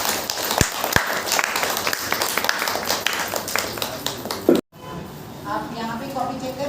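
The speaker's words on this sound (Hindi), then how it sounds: "टीचर आएंगे, तालियां तो बजेगी" Children at a summer camp clap for their teacher in a burst of steady, close applause lasting several seconds. The clapping cuts off abruptly and is followed by quieter room sound with voices.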